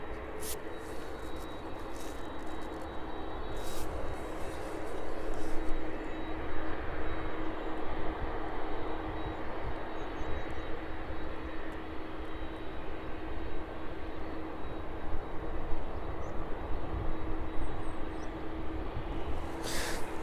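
Aircraft from Alicante rolling along an airport taxiway, a steady moderate engine drone with a faint whine, continuous throughout, with light clicks and no clear talk.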